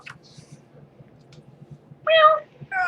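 A cat meows twice, close and clear, with a long drawn-out cry followed by a shorter one, over a faint low background hum.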